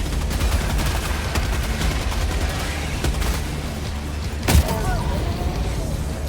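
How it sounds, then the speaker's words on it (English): Rifle gunfire in a fast-paced video game, heard as dense rapid bursts of shots over loud continuous background action, with one sharper blast near the end. "That's a rifle."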